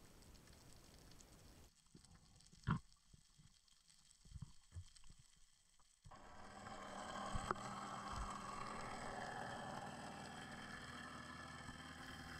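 Boat engines passing overhead, heard underwater while spearfishing on the Côte Bleue: a steady broadband motor drone that swells from about six seconds and holds to the end, after quieter underwater clicks and knocks.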